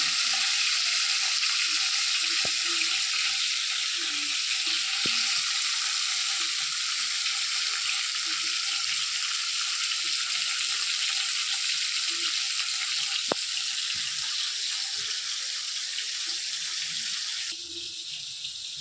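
Fish frying in hot oil in a home kitchen gives off a steady, close, dense sizzling hiss that runs unbroken throughout, with a few faint clicks and knocks from utensils and no talking.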